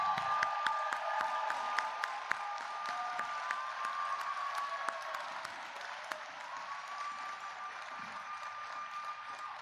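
A commencement audience applauds college staff with steady, fairly faint clapping that holds through the whole stretch, plus a few sharper individual claps and a sustained tonal hum underneath.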